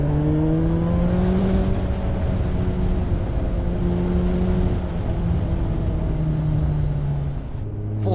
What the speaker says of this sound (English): open and close the throttle, accelerate, decelerate, and kind of find out where we are in the revs